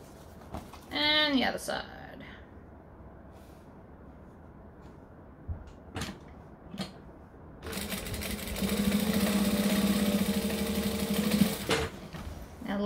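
A sewing machine top stitches a tote bag, first short pauses and faint handling with brief speech, then a steady fast whirring run of stitching for several seconds before stopping.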